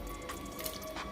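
Butter bean liquid pours into a cooking pot of Jamaican brown stewed turkey neck, giving faint, close dripping and splashing over about a second.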